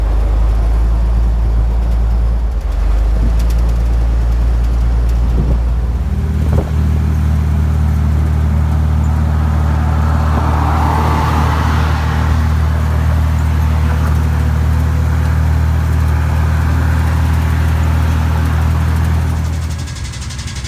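A garbage truck engine idles steadily alongside during a transcontinental motor convoy, a loud, close, continuous low rumble holding for the whole stretch with no talk.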